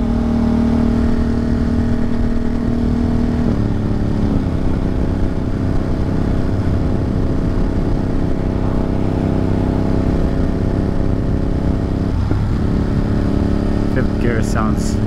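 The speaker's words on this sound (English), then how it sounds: "Fifth gear sounds and feels a little better here." A rally car pulls hard in fifth gear on a hill climb stage in the Catskills, its engine droning loud and steady at high revs throughout, with a slight dip and recovery midway.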